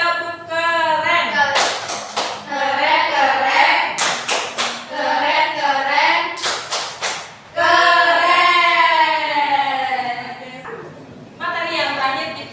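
A second-grade elementary class performs the 'tepuk keren' clap routine, with a teacher's chanting, sing-song voice leading it. Several short bursts of rapid group clapping punctuate the chant.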